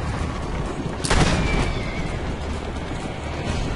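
A horse whinnies in Assassin's Creed Brotherhood amid a sniping mission, a short neigh rising out of steady rushing game noise just after a dull boom-like shot.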